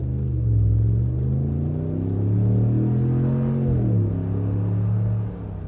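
A 2019 Ram Rebel 1500 Hemi V8 with a Carven cat-back exhaust pulls away, its deep rumbling engine note rising and falling steadily through the gears, heard from inside the cab with no talking.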